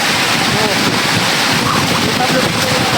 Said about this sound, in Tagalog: lakas ng hangin dito tol, ulan